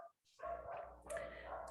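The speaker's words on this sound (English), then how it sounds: "my dogs are barking" Pet dogs barking indoors, two short yapping barks close by, separated by a brief pause, with a faint whine at the start.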